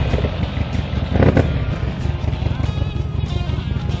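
A 2009 Buell XB1200XT Ulysses sport-touring motorcycle engine idles at a Harley-Davidson dealership, giving a steady, throbbing low rumble close to the microphone with a brief louder surge partway through.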